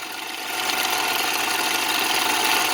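Metal-cutting machine running steadily through a cut while fabricating a custom cooling block, a loud, even, close broadband hiss and whine that swells slightly and holds without pause.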